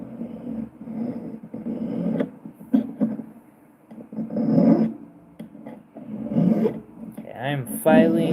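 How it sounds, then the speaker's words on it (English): A hand file rasps on metal prongs of a jewelry stone setting in short, close scraping strokes, with quiet pauses and some soft handling noises between them. "I'm filing just a little bit on these prongs for shaping reasons."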